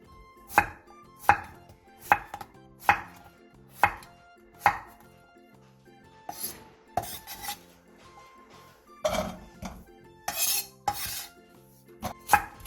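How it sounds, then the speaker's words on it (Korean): Two round zucchini being cut into large chunks with a knife on a cutting board: a steady series of sharp, close chops at about one per second, then a quicker, scrappier run of cuts toward the end. "둥근 호박 두 개를 큼직하게 잘라주세요"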